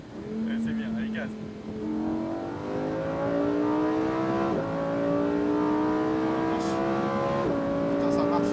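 A 640 hp Lamborghini Huracan Performante accelerates hard around a racetrack, its engine note climbing steadily through the revs with quick gear changes cutting in, loud and close, while people talk over it.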